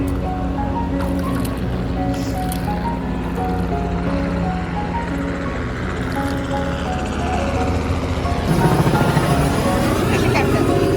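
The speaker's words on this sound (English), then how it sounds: "Helicopter, Sarah, helicopter" Steady helicopter drone with rotor chop runs throughout, with people speaking over it and a wash of water noise coming up near the end.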